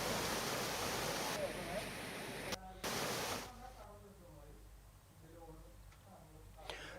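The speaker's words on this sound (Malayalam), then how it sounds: "കോൺക്രീറ്റിനു വേണ്ടി കെട്ടിയ കമ്പികളോട് ചേർന്നാണ് ഇപ്പോൾ വെള്ളം ഒഴുകുന്നത്." Floodwater from heavy rain rushes past rebar tied for concrete at a bridge construction site, a loud broadband roar that drops abruptly to a quieter wash halfway through, with a voice speaking over it.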